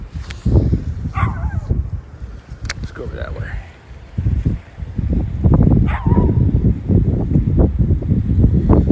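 A dog outdoors at a backyard pond during fishing gives short barks and high whimpers, loud and close, with wind noise buffeting the microphone and someone talking over it.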